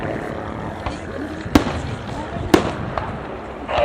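Pyrotechnic gunfire at the Cotswold Airshow 2010, fired from the airfield at a Luftwaffe Messerschmitt overhead: two sharp, loud bangs about a second apart and a fainter pop, over a steady outdoor crowd murmur.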